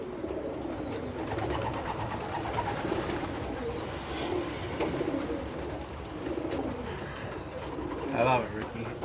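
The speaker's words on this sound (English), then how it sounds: "They're young birds. You already can hear the music." Young racing pigeons coo in a low, continuous, overlapping burble close by, with people talking over the birds throughout.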